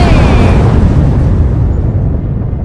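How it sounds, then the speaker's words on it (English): A spaceship blows up in a video game after its oxygen runs out, a loud, deep, rumbling explosion that roars at full strength from the start and slowly fades. "That was an ejectable explosion."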